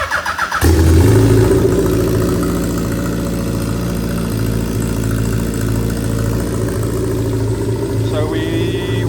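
A first-generation Suzuki Hayabusa motorcycle engine fitted with a turbo cranks and catches almost at once, then settles into a loud, steady, rumbling idle close by. A brief high whine joins near the end.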